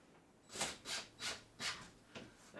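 Screw being driven into a wood interior door panel during a Cessna 172F cockpit rebuild, heard as five or six rhythmic grinding, rasping pulses, fairly quiet and close.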